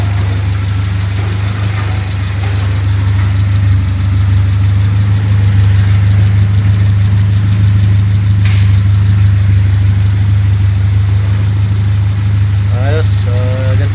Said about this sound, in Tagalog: talagang naka straight pipe tapos chambered muffler lang yung natira, talagang mas maingay na po yan